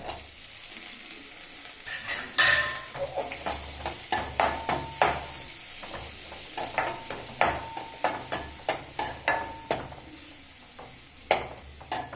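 Tomatoes sautéing in a pan for pearl millet porridge, a steady sizzle broken by a long run of sharp, regular utensil scrapes and taps as they are stirred, close and fairly clear with no talk.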